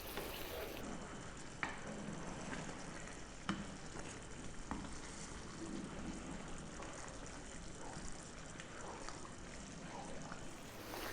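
Creamy, cheesy vegetable and tomato sauce with garlic and mozzarella, stirred constantly in a hot pan, gives a steady low sizzle with a soft scraping rhythm and an occasional tap of the spoon. The sound is close and continuous, and nobody speaks.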